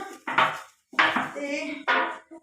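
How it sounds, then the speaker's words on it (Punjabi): Household dishes, pots and utensils are scrubbed and clattered by hand in a home kitchen, heard as three short bursts of metallic clinking and scraping separated by brief pauses. "ਮੈਂ ਲੱਗੀ ਆ ਜੀ ਹੁਣ ਭਾਂਡੇ ਮਾਂਜਣ"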